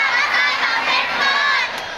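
A seated audience at a public talk shouts and cheers loudly when urged to raise their voices, a dense mixed crowd roar that holds steady and then eases slightly near the end.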